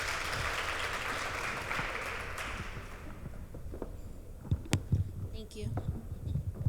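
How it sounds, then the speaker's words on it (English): Applause from a book-launch audience welcoming an author, a dense wash of clapping that swells loudly at first, then thins out into a few scattered claps and light murmurs. "Clap it up for Jessica."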